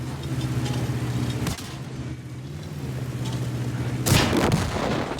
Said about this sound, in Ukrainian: Чудовий постріл.